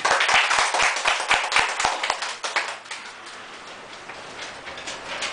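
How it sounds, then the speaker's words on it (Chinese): An audience at an arts event in Chiayi City applauds. Dense, crisp clapping starts strong and close, then thins and fades out over the second half, leaving a quiet room. "那所以呢，我们要来掌声欢迎一下"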